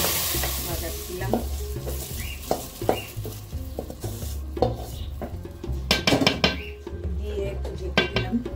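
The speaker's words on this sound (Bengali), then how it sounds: "পেঁয়াজ রসুন লাল হয়ে আসতে দিচ্ছি, বাগার দিলাম।" Onion and garlic browning in hot oil for a vegetable khichuri tempering, with a steady close sizzle punctuated by repeated scrapes and clinks of a spoon stirring against the pot.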